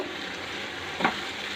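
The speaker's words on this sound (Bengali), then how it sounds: "এবার আমি এটার মধ্যে টমেটোর পেস্ট যেটা করা চপ করা আছে ওটা দিয়ে দেব" Chopped tomato paste frying in a pan for dhaba-style palak paneer: a steady close sizzle with one brief, sharper spatter partway through.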